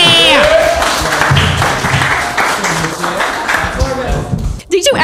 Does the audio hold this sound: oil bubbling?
no